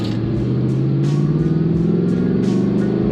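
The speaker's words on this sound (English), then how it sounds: "It actually has a good little rumble inside." Deep, steady engine rumble of a 2024 Ford Mustang GT RTR Spec 2 (S650) heard from inside the cabin while cruising, a continuous low drone with slight rises in revs and no talk over it.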